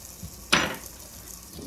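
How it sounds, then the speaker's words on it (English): Onions hitting a hot pan for Southern fried potatoes burst into a sudden loud sizzle that fades to a softer, steady frying hiss, with no talking. "Now here it starts sizzling, so it's starting to cook."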